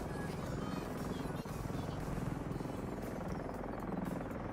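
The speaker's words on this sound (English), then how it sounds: "So I'm working on a helicopter game." Helicopter in a Godot-built attack helicopter video game: a steady, loud rotor drone and engine buzz running continuously with a faint pulsing chop, barely dipping once partway through.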